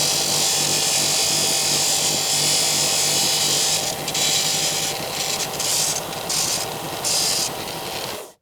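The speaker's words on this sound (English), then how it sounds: "I'm just going to round it off a little bit more, just using my bench kind of disc sander thing." A bench disc sander rounds off the metal edge of a basin lever pop-up waste part, giving a steady loud abrasive rasp that drops out briefly and shifts as the piece is pressed and lifted, with no talking.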